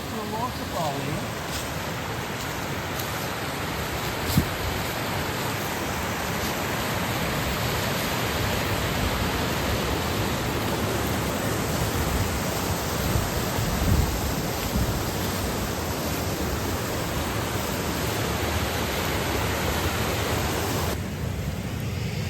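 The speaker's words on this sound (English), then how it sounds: "And then you've got a natural waterfall here." A natural waterfall on a country walk, a steady broadband rush of falling water that stays constant and fairly loud throughout, with brief faint bumps over the continuous roar.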